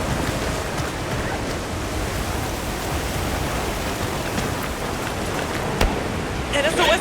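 A dense, steady roar of heavy rain in the video game Monster Hunter Wilds pours continuously, broad and hissing, with a brief sharper splash near the end.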